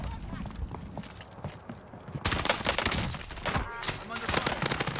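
Gunfire in the Call of Duty Warzone shooter, rapid crackling bursts that grow louder and denser partway through, mixed with footsteps and hurried voices talking over the action.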